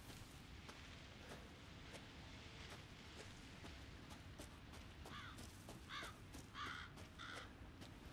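Several crows caw in the horror game Resident Evil VII, a handful of harsh calls in the latter half over a low, rumbling ambient background, fairly faint and distant.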